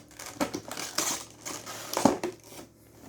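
A Nocibé 2020 cosmetics advent calendar box is torn open by hand, cardboard crunching and crinkling in several quiet, uneven bursts, with one sharper rip near the end.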